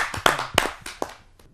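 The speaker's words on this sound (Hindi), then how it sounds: "आइए जोरदार तालियों से स्वागत करते" Scattered hand claps from an audience at a Hindi kavi sammelan poetry gathering welcoming a poet, a few sharp, close, uneven claps that quickly thin out and fade.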